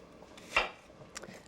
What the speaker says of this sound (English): I'm going to cut some onion.